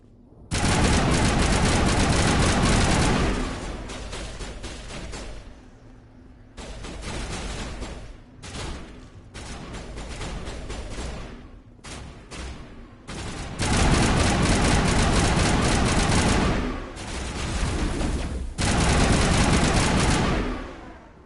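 Sustained automatic gunfire from a sci-fi rifle in Mass Effect Legendary Edition, loud, close bursts of several seconds each separated by short pauses as the weapon fires and stops repeatedly.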